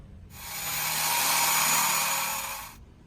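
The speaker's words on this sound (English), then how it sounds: "you can just drill them out" A power drill whines at high speed for a few seconds, steady and loud, drilling out a bolt on a Civic brake conversion, then cuts off abruptly.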